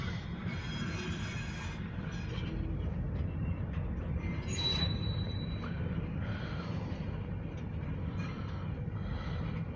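A short grain hopper freight train hauled by an Alco locomotive rolls past at moderate distance, steady rumble of wagons with intermittent wheel squeal and metallic clatter, no voices.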